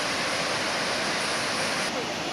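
Gollinger waterfall in Austria, water rushing and crashing down in a dense, constant roar that fills the scene, loud and close with no break.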